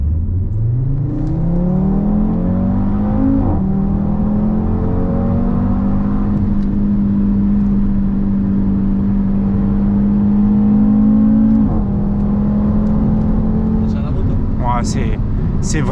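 An Audi TT RS Plus accelerates hard in sport mode with its exhaust valves open, engine pitch climbing steadily, dropping at a gear change, then climbing again and holding a loud sustained drone. Voices talk over the engine.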